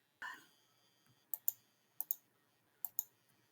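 Mouse clicks from selecting and grouping values in GIS software: a sharp opening click, then three quick pairs of crisp clicks at steady intervals, close and fairly quiet, with no talk.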